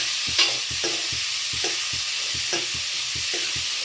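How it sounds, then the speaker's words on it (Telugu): Onions and curry leaves frying in a pan, an even sizzle broken by a regular series of spatula scrapes and stirs, about two per second; no one talks. "ఆనియన్స్ మంచిగా లైట్ గోల్డ్ కలర్ వచ్చేంత ఫ్రై చేసుకోండి."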